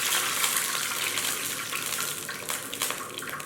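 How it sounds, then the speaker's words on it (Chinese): Water is poured into a wok with ginger and garlic, making a close, continuous splashing gush that rises and falls slightly, with no talking. "往锅内倒入大半碗的清水"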